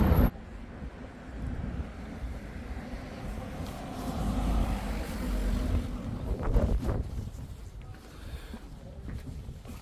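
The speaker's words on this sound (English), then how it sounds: "Bloody windy today, guys." Strong wind buffets outdoors in a town, a continuous low roaring rumble that swells and eases across the clip, close and heavy, with no talk.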